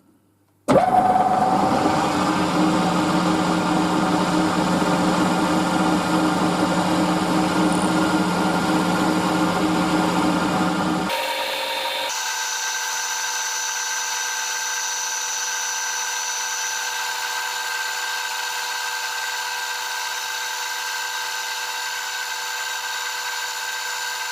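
A milling machine plunges a 5mm cut into the end of a metal bottle opener blank, giving a loud, steady machining whine with constant tones that shift to a different pitch partway through and continue to the end.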